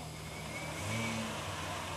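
Engine of a small vehicle driven downhill, a steady mid-pitched hum with a slight rise in revs midway, fairly distant and low in level with faint background voices.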